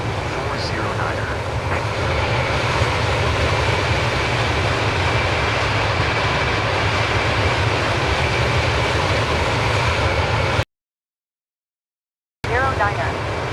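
An aircraft engine drones during a climb in Flight Simulator 2024, a loud, steady broadband hum that cuts out completely for about two seconds near the end before returning.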